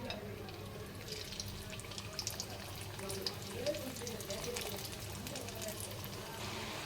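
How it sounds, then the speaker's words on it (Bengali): Potato and wheat-flour snack pieces fry in hot oil with a soft, continuous sizzle and light crackles, faint and steady beneath a person talking. "দেখো ব্রাউন কালার করে ভেজে নিয়েছি"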